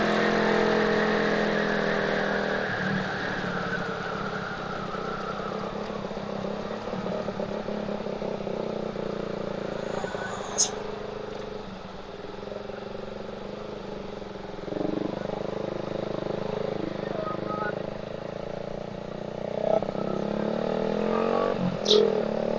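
A carbureted motorcycle engine runs steadily with throttle blips and revving, passing traffic noise around it, at a moderate level throughout.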